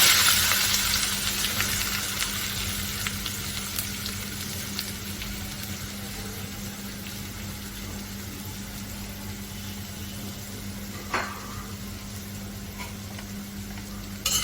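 Chopped onions fry in fish oil in a wok, giving a steady, even sizzle with faint clicks and stirring noises and no talk.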